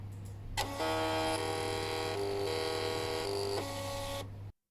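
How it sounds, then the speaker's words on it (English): A small thermal printer, driven by an ESP8266 board, whirs steadily as it prints a message. The motor's buzzing tone shifts pitch a few times over roughly four seconds and then stops abruptly. Nobody speaks. "when we now press call service, the printer should print it"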